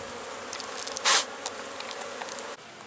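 Honey bees buzz around winter beehives fitted with candy boards, a faint steady hum with one brief louder pass near the microphone.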